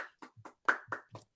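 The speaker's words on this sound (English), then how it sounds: "Our studio audience of one applauds" A lone person claps for a studio audience of one, a short run of quick, slightly uneven hand claps, close and moderately loud, with nothing else heard.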